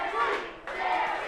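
A wrestling crowd at an 880 Wrestling show cheers and chants behind Sammy Suntheimer, a dense roar of voices rising and swelling across the hall.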